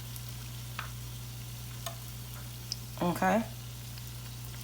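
Conch fritters fry in oil with a steady, moderate sizzle and occasional pops, beside a low constant hum, as a voice briefly speaks partway through.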